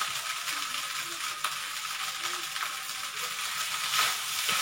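Fried rice with soy sauce stirred in a hot pan, a steady close sizzle with soft scraping and a few sharper clinks of the utensil against the pan.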